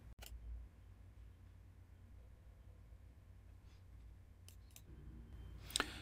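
A mouse click on the publish button in Adobe Lightroom, a few faint, sharp clicks spaced apart over a low room hum, with one brighter click near the end.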